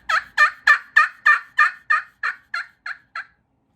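A turkey pot call imitating a hen, about eleven evenly spaced yelps that start soft, peak loud and then taper off, close and clear against silence.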